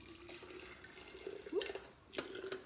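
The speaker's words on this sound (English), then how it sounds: "I am going to pour this boiling water over it" Boiling water trickles and splashes faintly over smashed willow branches in a container, a soft, uneven pour with small drips and brief surges.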